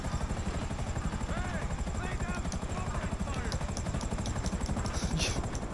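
Helicopter in a video game drones with a steady, rapid rotor chop that runs throughout, loud and continuous, while people talk over it.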